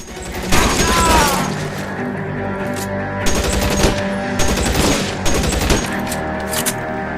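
An enemy blind-fires at the player in a shootout in L.A. Noire, loud repeated bursts of gunfire rattling across the scene in clustered volleys with booming impacts between them.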